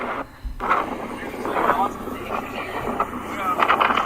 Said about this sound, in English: That's how windy it was today.